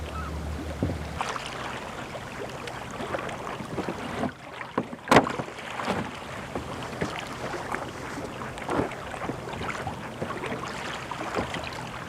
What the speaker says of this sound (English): carefully lift my kayak onto the stony beach